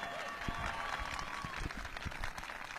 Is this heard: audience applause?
yes